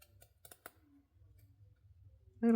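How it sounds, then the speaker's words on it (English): A few sharp, quiet snips of scissors cutting paper close by, spaced out in a quiet room, followed by a brief louder noise at the end. "So we'll take our scissors here and just give this a little"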